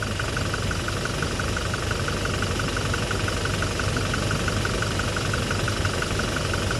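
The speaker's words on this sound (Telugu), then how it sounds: "మీరు ఇంజిన్ నాయిస్ని ఐడెంటిఫై చేయండి." The engine of a Toyota Innova Crysta with about 1.5 lakh km driven runs steadily at idle, a loud, even mechanical drone and rumble with no pauses and no voices.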